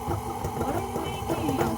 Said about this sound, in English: Watch your hand, I'm putting it in the mixer.